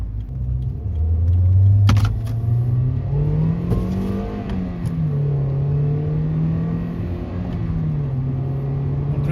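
A 2003 Toyota Yaris TS engine revs and climbs in pitch as it accelerates, a steady close rumble with a brief click near the start.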